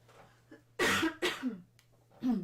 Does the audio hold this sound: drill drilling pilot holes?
no